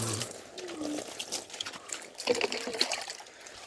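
Water is poured and splashed over a dog during its bath, an uneven trickling and splashing close by, with faint scuffs and no clear speech.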